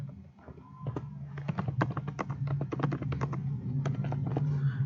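Assembly code is typed in EMU8086 on a computer keyboard: a rapid, irregular run of crisp keystrokes, close and clear over a faint low hum, with no talking.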